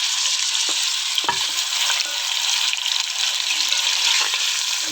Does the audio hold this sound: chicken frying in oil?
yes